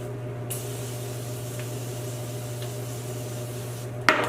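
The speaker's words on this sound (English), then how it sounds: "Setting spray. Let's do this one for Morphe, the Continuous Mist" Morphe Continuous Mist setting spray releases a long, steady fine hiss, a smooth continuous mist lasting a few seconds, close up over a constant background hum, ending with a brief rustle.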